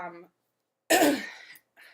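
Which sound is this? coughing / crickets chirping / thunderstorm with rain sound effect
coughing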